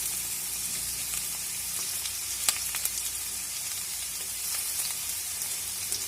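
Chopped onions sautéing in a pan while cooking drumstick chops, a steady broadband sizzle of frying with a few faint stirring clicks, close and continuous, with no talking.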